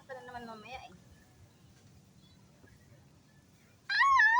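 Cats meowing while being bathed with shampoo: a rising, wavering meow at the start, a quiet stretch with faint low murmur, then a sudden louder meow near the end.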